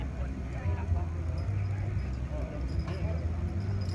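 Horse hooves clip-clop steadily under a low rumble and people talking nearby.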